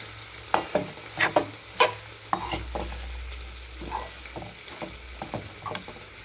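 A ladle stirs soybean usal mixed with crushed peanuts in a pan, giving a series of sharp scraping knocks over a soft sizzle, close and fairly loud, with no one talking.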